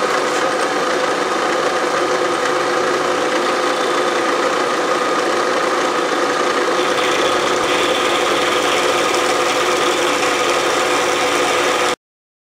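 A Bridgeport milling machine cuts a T-nut, giving a steady, loud mechanical drone with dense grinding texture that shifts slightly in tone partway through and then stops abruptly near the end.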